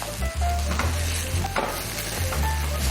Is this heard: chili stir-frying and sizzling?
yes